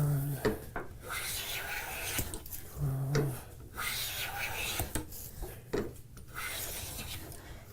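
A hand plane takes shavings off a wooden board in repeated rasping strokes at a moderate pace, close by, with someone talking between the strokes.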